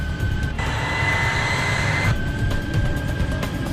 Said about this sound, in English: clear for takeoff. Runway 16.